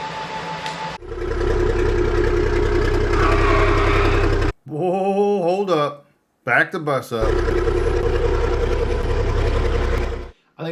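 The diesel engine of a 5-ton crew cab truck idles loudly with a steady low rumble. The engine sound cuts out midway while someone speaks, then it returns and runs on.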